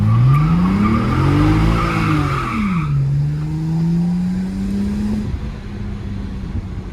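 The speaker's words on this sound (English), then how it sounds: "sounds like all of both the tires are spinning" A BMW's tires spin and skid with a loud, close squeal over a rising and falling engine note, settling into a steady higher whine before fading near the end.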